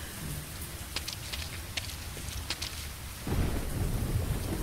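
Steady rain pours down with rumbling thunder throughout, swelling louder in the final second as a storm scene plays in the adventure game Secret Files 3.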